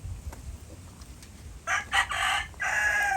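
A gamefowl rooster in a backyard breeding yard crows once, a loud, hoarse burst of broken notes rising above quiet background rumble after a brief calm.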